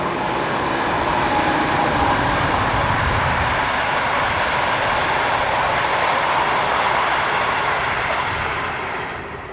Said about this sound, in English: Some of the local trains are now in the hands of new Class 146 electrics. Here number 2 stops at Herzenach.